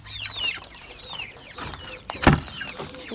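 Barred Rock hens and meat birds on a homestead cluck and murmur in a continuous, fairly close chorus, with one louder burst near the end.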